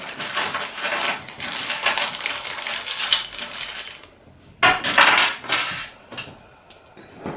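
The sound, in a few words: opening Singer sewing machine accessories bag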